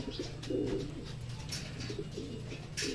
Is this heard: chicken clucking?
no